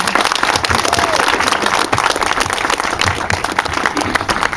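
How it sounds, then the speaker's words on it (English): Loud, sustained applause from a large crowd fills the space, dense and continuous clapping throughout. "Please, again, a huge round of applause for this incredible accomplishment."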